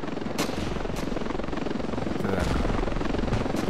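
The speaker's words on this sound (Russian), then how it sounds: "летают на вертолете." Helicopter rotor chop from Ravenfield, a steady loud pulsing drone throughout with a few sharp bursts that sound like gunfire mixed in.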